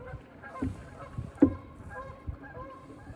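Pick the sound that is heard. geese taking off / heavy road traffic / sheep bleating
geese taking off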